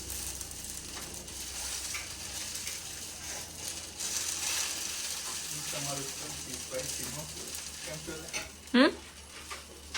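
A spicy helicopter dosa cooks on a hot pan with a continuous close sizzle and scraping stirs, ending with a sharp clack near the finish.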